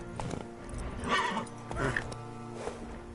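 Roach the horse in The Witcher 3 snorts and whinnies while hooves clop in the background, a few loud breathy calls rising over a soft game ambience, with someone speaking briefly.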